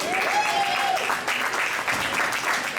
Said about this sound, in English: So let's give a big applause for Ben Kern.